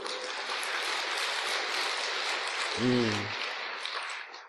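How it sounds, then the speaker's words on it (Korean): A congregation at a Sunday Buddhist dharma service claps for a choir: a continuous, even wash of applause lasting several seconds, with a voice breaking in briefly near the end. "합창단들한테 박수 한번 쳐줘요"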